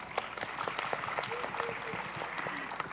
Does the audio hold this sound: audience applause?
yes